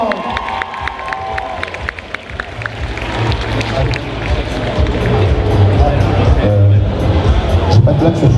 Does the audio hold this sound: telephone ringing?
no